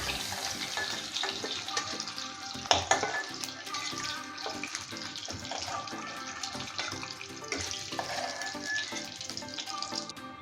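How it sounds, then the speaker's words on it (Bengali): Eggs frying lightly in hot oil in a wok for Bengali egg korma, a steady dense sizzle with crackling pops that holds at an even level throughout, with a sharper burst near the middle. "আমি হালকা ডিমগুলো ভেজে নেবো, বেশি আমি লাল করব না।"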